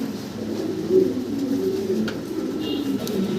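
Pigeons for sale coo in soft, low, continuous murmurs close by, with several birds overlapping under a faint background of room noise.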